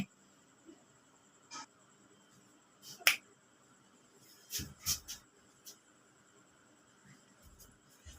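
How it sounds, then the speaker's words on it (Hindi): A teacher snaps his fingers in a quiet classroom, giving several sharp, crisp snaps at irregular intervals with faint rustling in between. "मैं चुटकी बजाता हूँ तो ये देखो मेरा हिल जाता है"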